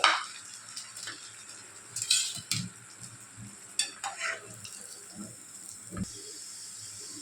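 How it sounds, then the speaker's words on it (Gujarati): Semolina and potato bites fry in oil, a soft continuous sizzle with occasional bubbling bursts and a few utensil scrapes and knocks, fairly quiet and without speech. "જુઓ એ સરસ મજાના તળાઈ રહ્યા છે હળવે હળવે એમનો કલર છે એ ચેન્જ થાય છે"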